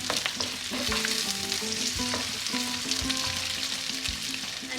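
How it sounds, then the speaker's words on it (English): Garlic stir-frying in a pan for squid ink adobo: a continuous bright sizzle with rhythmic scraping strokes of a spatula, under quiet background music. "you then add your garlic, and then just stir fry until it's aromatic"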